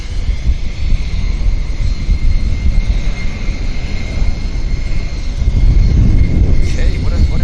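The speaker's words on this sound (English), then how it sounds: "this is Air Canada MAX heading down to LA" Air Canada Boeing 737 MAX jet airliner at Vancouver YVR, outbound to Los Angeles, gives a steady broad engine roar and rumble that holds across the whole span and swells slightly near the end, with no talk over it.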